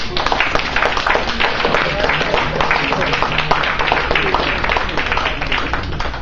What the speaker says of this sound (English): Would you join me in applause and wishing them well for the coming year?